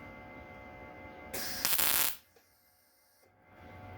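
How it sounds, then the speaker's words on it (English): A tack weld goes onto a metal patch panel: one loud, close, crackling burst lasting under a second, then near-quiet with a faint electrical hum. "want to get a couple of welds on the top again in the corners"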